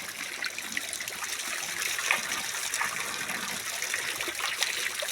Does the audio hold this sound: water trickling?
yes